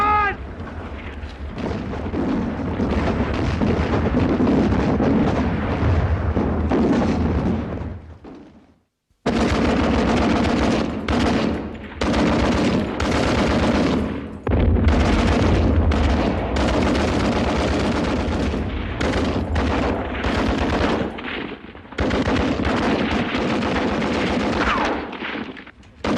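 A battlefield barrage in a First World War drama: sustained rumbling artillery blasts and rattling machine-gun fire, loud and dense, broken by a brief silence before the gunfire resumes, with faint shouting under the din.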